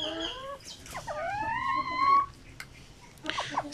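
Pure Zampen native chicken chicks peep in long, rising, high-pitched calls, several overlapping, close by with soft rustling between.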